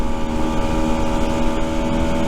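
A Rieju Century 125 motorcycle engine, just run in, idles through its exhaust with a steady, loud, low rumble that holds constant throughout.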